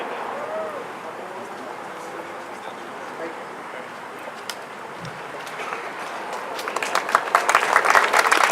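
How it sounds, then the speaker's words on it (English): Applause at an outdoor Veterans Day event in El Monte, starting as a faint crowd murmur and swelling into dense clapping and cheers near the end. "Another round of applause for Staff Sergeant Jacob and all of our newest residents to the city of El Monte"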